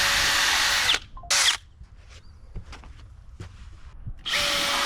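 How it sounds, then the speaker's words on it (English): A power drill bores a pilot hole in softwood lumber in two close bursts of high whirring, then the workpiece is handled with small knocks and rubs before the drill spins up again. "first thing I'm gonna do for the cut lumber and the blocks in between is I'm gonna drill a pilot hole"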